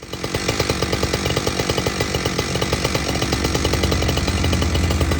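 A 372 chainsaw with a modified muffler idles loudly and close by, its engine putting out a rapid, steady pulsing drone that holds even throughout.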